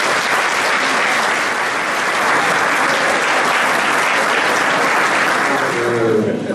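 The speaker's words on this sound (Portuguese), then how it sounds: "Portanto, eu pedi uma salva de palmas para eles." Audience applause fills a hospital friends' league lunch, sustained and loud throughout with dense clapping and crowd noise, easing slightly at the end.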